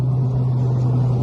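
A turbocharged Honda Civic Type R EP3, a front-wheel-drive car making around 380 bhp, accelerates hard, its engine a loud, steady low drone holding throughout the short burst with no voices.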